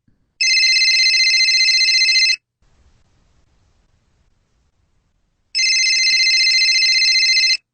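A telephone rings in two long electronic bursts of about two seconds each, separated by a silent gap of roughly three seconds. The rings are loud, close and heard alone.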